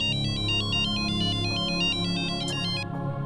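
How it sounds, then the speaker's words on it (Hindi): A bright electronic phone ringtone plays a quick repeating melody over a low background hum, stopping abruptly near the end. "राज, कियारा मैडम का फोन है।"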